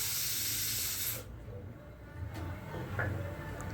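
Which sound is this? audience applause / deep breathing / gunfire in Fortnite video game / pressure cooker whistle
pressure cooker whistle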